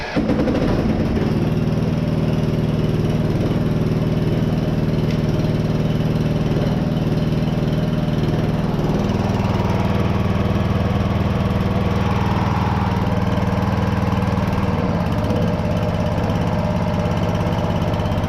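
A ride-on lawn mower's loosely mounted engine drones loud and close for the whole stretch, a steady low hum whose pitch shifts partway through, with no voices.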